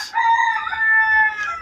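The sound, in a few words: rooster crowing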